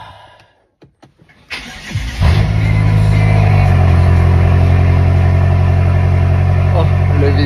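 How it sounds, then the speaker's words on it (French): A BMW M6 V8 cranks over after a few clicks and fires with a loud burst, then settles into a deep, steady idle rumble that fills the rest of the moment; a voice speaks briefly near the start. "Oh, le V8. On va la laisser chauffer."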